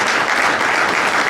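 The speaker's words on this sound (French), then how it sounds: "Applaudissements." Loud, dense applause from an audience at an evening speech event, a steady burst of clapping that fills the whole short moment with no talk over it.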